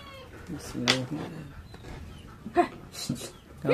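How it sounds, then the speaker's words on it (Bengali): A cat meowing for food in a rural Bengali home, several short meows scattered across the moment, mixed with voices talking nearby. "আগে বিড়ালটা খাইতে দিয়ে আগে"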